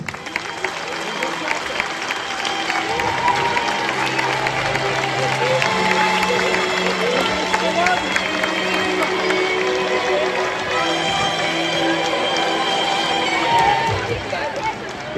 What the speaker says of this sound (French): C'est important quand même, je pense, d'applaudir une nouvelle fois Alain